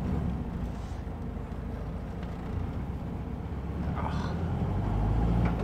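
A 1954 right-hand-drive VW Barndoor Bus rolls steadily over speed bumps, its engine droning in a low, continuous rumble that swells slightly toward the end, with a few faint knocks and rattles from the body.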